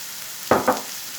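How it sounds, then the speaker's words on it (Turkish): Ground beef being fried with onions in a pan for a zucchini dish: a soft steady sizzle with two short scraping stir sounds in quick succession, near and fairly quiet. "Bir güzel eze eze her zaman yaptığımız gibi şöyle güzelce ezerek bunu soğanla birlikte kavuruyorum."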